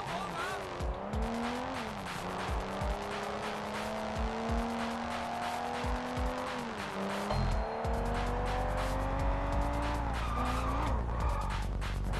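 Fast car in the video game Sleeping Dogs revs with rising and falling engine pitch as it accelerates, then its tires squeal in long skids; game sounds continue throughout.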